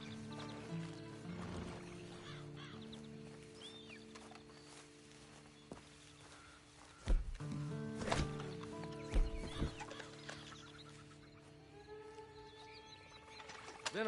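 Horse riding in a video game, with soft hoofbeats and light movement sounds over a quiet, low ambient bed, plus a few louder thumps toward the middle.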